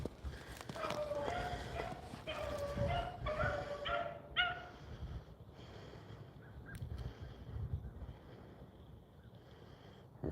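Beagle hounds bay on a rabbit hunt outdoors, several overlapping howling and yelping voices through the first few seconds before trailing off into a steady background hiss with faint calls.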